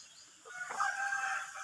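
A rooster crows once, brief and moderately distant, over a faint background hiss on a rural chicken farm.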